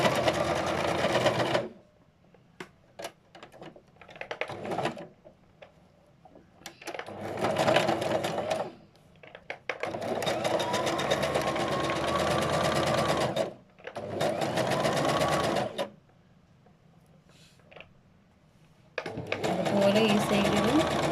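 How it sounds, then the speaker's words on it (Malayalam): Bursts of a domestic sewing machine stitching cloth during a tailoring lesson, several loud runs of rapid whirring separated by pauses, with a person talking in between. "ഇനി മറ്റൊരു ഭാഗത്തും അതേപോലെ ഞങ്ങൾ സ്റ്റിച്ച് ചെയ്യാം."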